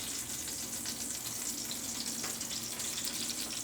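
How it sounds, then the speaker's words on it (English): Onions drop into hot bacon grease and sizzle in a steady, faint frying hiss with light crackling throughout, alone and without talk. "because my grease is actually pretty hot, take some of these onions,"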